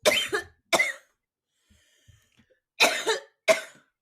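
Four dry coughs in a set, close and loud, two in quick succession, a quiet pause, then two more, mimicking an iconic show intro.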